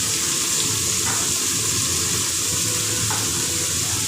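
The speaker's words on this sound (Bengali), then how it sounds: "বাঁধাকপির পুরো জলটা টেনে যেতে হবে, এইভাবে একটু সময় ধরে এটাকে ভাজতে হবে।" Shredded cabbage frying in a pan, giving a continuous loud hiss and sizzle as the water cooks off, with a few faint scrapes of stirring.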